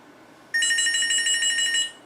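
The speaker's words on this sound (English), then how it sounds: "I'm not going to answer this phone this time." A telephone rings once in a short electronic burst of bright, sustained trilling tones that stop cleanly after about a second and a half, with a quiet room behind it.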